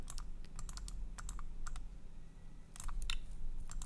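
Computer mouse clicks while copying and pasting blocks in a coding program, sharp close clicks coming in small irregular bursts with pauses between them over a quiet room background.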